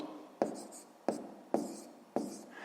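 Pen writing down a number on paper, four soft, quick scratchy strokes at regular intervals, close and faint in a quiet room.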